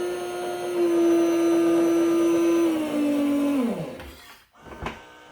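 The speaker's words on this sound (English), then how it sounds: "the grinder should work without the coffee" A Saeco Odea Go espresso machine's grinder motor runs empty with no coffee beans, a steady loud whine that holds for several seconds, dips slightly, then spins down with a falling pitch and stops, followed by a few faint clicks.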